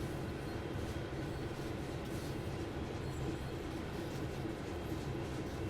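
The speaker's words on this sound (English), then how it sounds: "Another train." Steady broadband rumble of a passing train in the Train Sim World 4 railway simulator, heard through the cab, continuous and fairly loud for several seconds with no talking.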